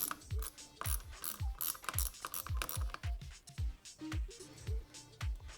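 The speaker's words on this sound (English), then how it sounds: "We're going to begin by undoing the pivot bolt nut from the bottom." A ratchet clicks in quick repeated strokes, loosening the 10 mm pivot bolt nut on the brake lever of a 2017+ Yamaha FZ motorcycle, the close metallic ticks coming in bursts with brief pauses between.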